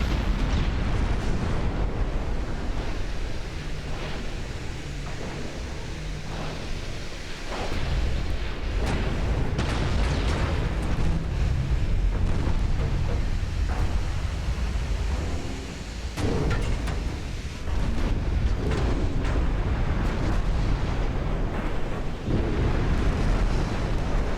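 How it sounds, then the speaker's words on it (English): Heavy 15-inch naval gunfire in the DIP v2 naval game: repeated loud, rumbling blasts and roaring bursts that go on without a break for about twenty seconds. "the poor old Montana is about to get a very rude introduction to the 15-inch gun"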